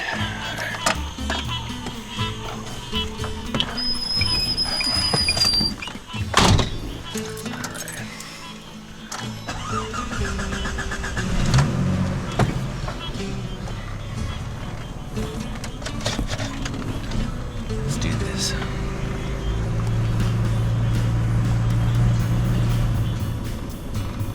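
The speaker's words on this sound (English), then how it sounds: "I'm gonna get back in the car and keep on down the road" A car drives along a road, its engine and tires giving a steady, moderately loud rumble from inside the cabin, with a few knocks and rattles along the way.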